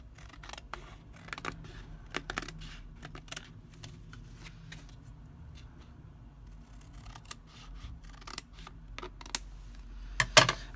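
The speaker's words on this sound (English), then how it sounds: "let me just trim this up a little with my scissors" A handful of crisp scissor snips cutting through paper, close by, coming in short irregular bursts separated by quiet pauses.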